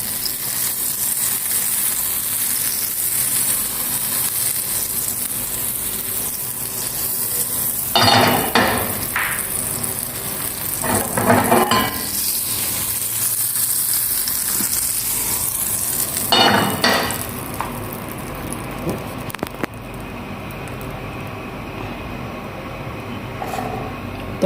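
Butter sizzles in a hot pan while gluten-free pancakes are cooked. A steady frying hiss runs throughout, broken by a few louder bursts of stirring or scraping.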